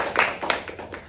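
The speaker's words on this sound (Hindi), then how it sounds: "ताली जोर से बजा सकते हैं," Scattered hand claps from a small audience at a lecture on life lessons from the Bhagavad Gita, a few separate sharp bursts rather than a full ovation, moderately close.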